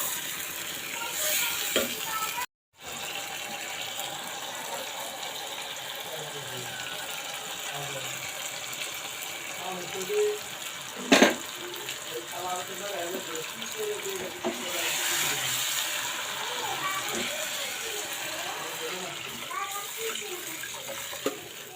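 Broth is poured into a pan of shing fish with potatoes and onions, a faint, steady watery pour that runs for a long stretch, broken by a brief gap and a single clatter partway through.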